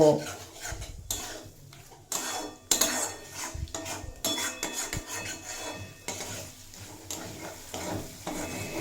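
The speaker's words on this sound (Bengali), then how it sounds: "চিকেন কিমা দিয়ে মশলার সাথে খুব ভালোভাবে ভেজে কষিয়ে নেব" Chicken mince frying with spices in a pan, stirred steadily with a metal spatula: repeated scraping and clinking strokes over a soft sizzle, close and fairly loud, with no talking.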